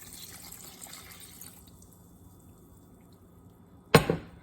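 Liquid is poured into a pot of homemade tomato soup as one short, close splash near the end, after a quiet stretch of faint kitchen background.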